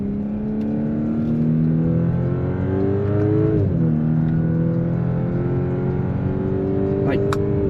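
A 2018 Audi S5 Sportback accelerates under light throttle, its engine note rising steadily through the gears. One quick shift dips the tone midway, and the cabin sound stays loud and continuous with road noise underneath.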